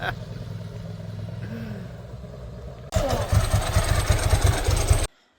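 A Ducati motorcycle engine, previously dead and being revived, catches and runs with a loud, close, lumpy throbbing beat for a couple of seconds before cutting out abruptly.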